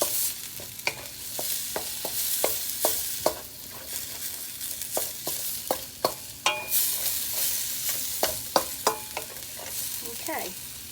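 Frozen peas and corn frying with rice in a pan, a hiss of sizzling under repeated sharp scraping stirs and clinks at an irregular rhythm, close and fairly loud.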